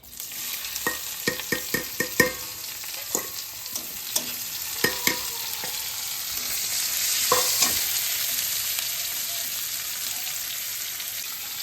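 Spice paste for fish curry sizzles and fries in a hot pan, with repeated scraping clinks of a spatula stirring at an uneven rhythm.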